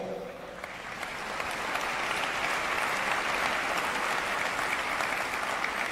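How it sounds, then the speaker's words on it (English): A large audience applauds at a live Save Soil event in Dubai, the clapping swelling after a second into a steady, dense roar of many hands that holds to the end. "I'm wary of all these clapping hands"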